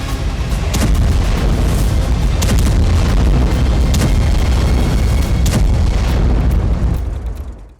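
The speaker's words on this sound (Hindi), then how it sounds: "रूस ने इस्कंदर मिसाइलों से हमला कर दिया।" Heavy explosions from Russian Iskander missile strikes on Ukraine, Kyiv and Sumi, boom into a dense, continuous roaring rumble with scattered sharper cracks, loud throughout and fading at the end.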